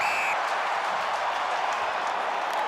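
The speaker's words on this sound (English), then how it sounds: "The Highlander supporters going nuts" Highlanders supporters roar and cheer at a 2004 rugby match against the Waratahs, a dense, steady wall of crowd noise holding at the same level throughout.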